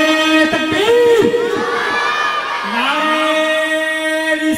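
Crowd at a religious gathering in Lucknow chanting slogans in a loud collective roar, with cheering voices rising and falling over a few seconds while someone talks amid the noise.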